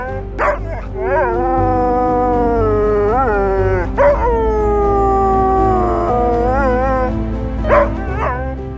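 A dog howls long and loud on a mountain summit at Middle Sister near Sitka, Alaska, with drawn-out wavering howls broken by short yips and rising calls.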